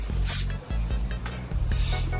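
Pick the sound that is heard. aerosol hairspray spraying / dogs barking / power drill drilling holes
aerosol hairspray spraying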